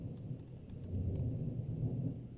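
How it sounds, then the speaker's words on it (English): Low, continuous thunder rumbling through a storm, with rain-like hiss under a steady loud roll that swells slightly partway through, heard outdoors in an uncovered spot. "Did you hear that thunder?"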